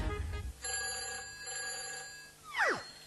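A telephone rings in a film scene, a shrill electronic warble sustained for a couple of seconds, then followed by a swooping tone as a low rumble fades out at the start.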